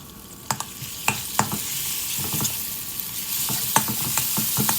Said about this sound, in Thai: ใส่น้ำมันลงไปนะครับ แล้วก็ตามด้วยพริกกระเทียมตำครับ แล้วก็ตามด้วยพริกแกงใต้นะฮะ